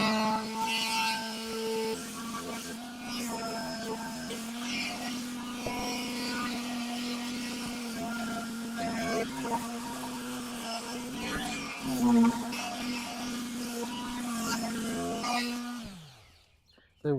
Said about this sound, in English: So now we'll switch over to sanding.